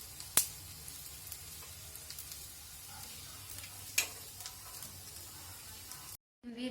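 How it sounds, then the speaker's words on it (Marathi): Kothambir wadi, coriander fritters, shallow-fry in a pan with a steady, even sizzle throughout, broken by two sharp utensil clicks near the start and midway, then a sudden drop to near silence at the end. "अशा पद्धतीने दोन्ही बाजूने खरपूस अशा चांगल्या भाजून घ्यायच्या आहेत"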